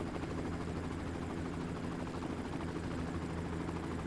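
A helicopter flies over a stretch of a Tour of Magnificent Qinghai bicycle race in China, its rotor chop a dense, constant roar that stays steady and fills the whole stretch without a break.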